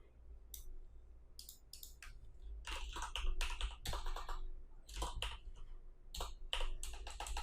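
Code is typed on a computer keyboard in quick irregular bursts of close, crisp key clicks, separated by short pauses.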